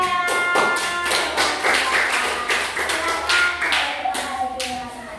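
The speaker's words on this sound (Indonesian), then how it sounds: "tepuk tangan untuk kelompok 3" A classroom of children clapping together for a student group after a lesson, a dense run of quick handclaps that holds steady for several seconds before thinning out toward the end.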